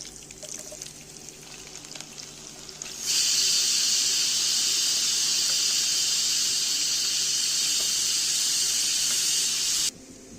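Chopped onions dropped into hot oil in a pan in a Kashmiri home kitchen, bursting into a loud, steady hiss that holds for about seven seconds before cutting off abruptly, close by.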